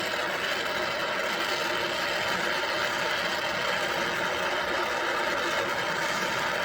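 A 101b pipe adapter is being welded, producing a constant crackling electric buzz at moderate level, unbroken for the whole stretch.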